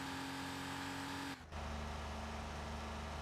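In the Need for Speed racing game, a Porsche engine holds a steady, flat drone in 5th gear at high speed, broken by a brief dip that sounds like a gear change before the hum resumes.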